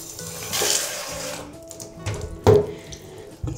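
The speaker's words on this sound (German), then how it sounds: "Wenn ich jetzt Leave-In verteilt habe, gebe ich gleich nochmal einen Schwung Wasser drüber." Short bursts of water splash onto curly hair after leave-in conditioner is worked through, heard close up with soft trickling and a sharper splash near the end, with no talking.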